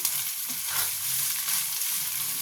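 Flattened rice (chire) sizzles steadily in a hot pan for a pulao, a continuous bright frying hiss with soft stirring scrapes underneath, close and even throughout with no talking.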